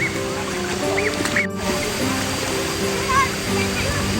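Mae Phun waterfall in Uttaradit, Thailand, rushes as a steady broadband roar close by, with people talking over it and a few quacking calls.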